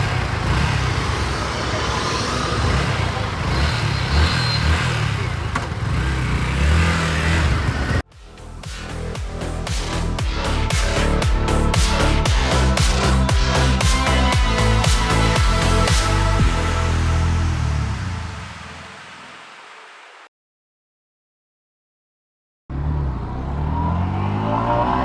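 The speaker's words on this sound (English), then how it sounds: "this is how you start the bike. So let's start it now." Yamaha XSR motorcycle with a steady idle that starts up and rises into a loud, sustained engine roar, then drops away into silence before a low rumble returns.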